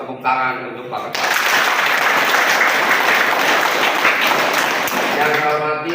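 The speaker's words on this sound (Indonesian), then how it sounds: "tepuk tangan untuk Bapkesbang" An audience at a Pemuda Pancasila new-member training gathering in Banyumas breaks into loud, sustained applause. A speaker's voice comes just before the clapping and returns briefly as it fades.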